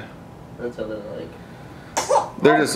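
A short sneeze or cough bursts out twice near the end, sharp and close, following casual conversation between people.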